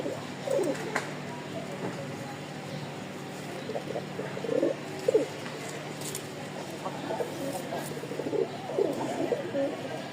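Pigeons coo repeatedly in a loft where a pure white pair and black birds with white beaks are kept, the low rolling calls rising in bursts over steady background murmur.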